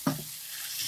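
Ponnanganni greens wilting in a hot pan, with a short scrape of stirring at the start followed by a soft, steady sizzle and no talk.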